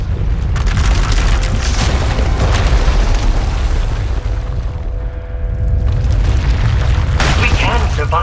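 Huge explosive eruption of uncontrolled power destroying an asylum in the game Knights of the Eternal Throne, a loud sustained booming roar with crackling bursts that dips briefly before surging again.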